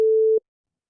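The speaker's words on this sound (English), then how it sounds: "It's a sine wave, just like we just did" A steady pure sine wave test tone at a single low-mid pitch holds for under half a second, then cuts off abruptly into silence.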